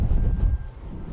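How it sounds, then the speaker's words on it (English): Chinook wind buffeting an outdoor microphone, a loud, continuous low rumble that swells and eases over the whole moment with no other clear sound. "And of course we've got a bit of a Chinook wind going on, so it might be really loud for you guys."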